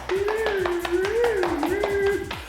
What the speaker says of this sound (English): Give yourself a clap, triple clap, double clap, quadruple clap, round of applause.